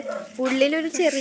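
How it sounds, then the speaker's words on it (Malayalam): Village dogs barking outdoors, a few yips and barks rising over continuous nearby talk. "ഇവിടെ പട്ടിയൊക്കെ കുരയ്ക്കുന്നുണ്ട്."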